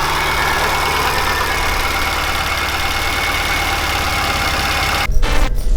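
An 800-plus-horsepower Subaru STi engine runs at its first startup, a steady loud rumble that holds throughout, then shifts abruptly near the end into a rougher, louder burst.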